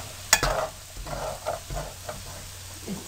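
A spoon stirs makhadi halwa roasting in ghee, with repeated scraping strokes and soft sizzling, opening with a sharp clank against the pan.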